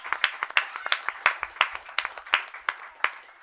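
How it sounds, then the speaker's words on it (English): Scattered clapping from a small audience at a town board meeting, individual claps irregular and fairly close, building loosely into brief applause with no talk over it. "So, you give a round of applause for Matt."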